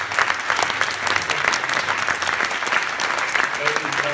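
A concert audience applauds to welcome a pianist from La Scala and a Mongolian baritone onto the stage, steady enthusiastic clapping with a voice speaking over it.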